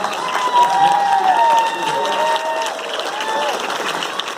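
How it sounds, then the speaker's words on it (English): Audience applause and cheering at a WonderCon game developer panel fill the space with steady clapping, voices and some tonal sounds mixed in. "Please, one more round of applause."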